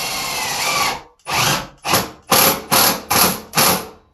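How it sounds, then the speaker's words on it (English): A power drill driving a screw into an aluminum Kohler mirror medicine cabinet, first a steady whir, then a series of short, loud bursts as the screw is snugged up. "This is aluminum, so you don't want to go too fast with the drill."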